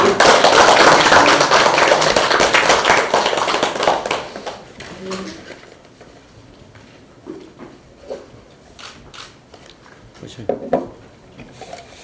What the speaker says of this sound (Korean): 분발하라고 박수 한번 드립니다